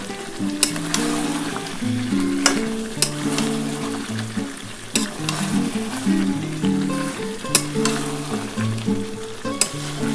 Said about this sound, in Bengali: গোলমরিচটা দিয়ে একটুখানি ভালো করে কষিয়ে নিতে হবে।